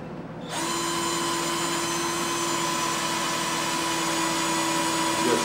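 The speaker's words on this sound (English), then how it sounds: "just drill a hole." A power drill bores steadily into the wooden handle of a turned teapot, a continuous close whine that starts abruptly and holds level without pause.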